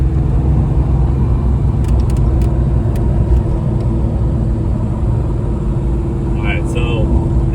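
A GT500-swapped Ford Fox Body Mustang drives with a loud, steady engine drone and road rumble throughout, the car held at an even pace rather than clearly building speed.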